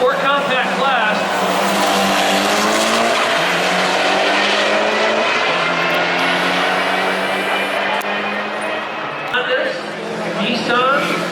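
Race cars in the Volkswagen and Acura compact class run at Bandimere Speedway, a steady loud roar of engines with tire squeal carrying through, and a voice talking over the noise throughout.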